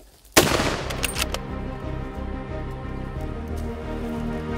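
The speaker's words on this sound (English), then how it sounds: "a follow-up shot is made at close range for safety reasons" A single close-range follow-up rifle shot from a Mauser M 98 Magnum during a hunt in Mozambique, one sharp loud crack followed by a long rumbling echo and outdoor ambience.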